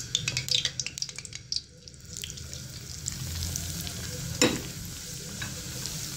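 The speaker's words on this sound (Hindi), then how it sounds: "बेसन को मैंने अच्छे से भून लिया है।" Gram flour roasts in ghee with cardamom in a pan, giving a soft steady sizzle, while a spoon scrapes and stirs in quick irregular strokes, close and moderately quiet.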